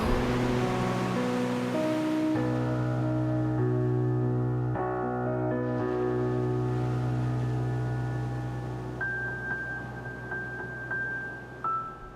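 Soft rushing surf and wind hiss steadily beneath sustained, gentle musical chords, fading gradually toward the end.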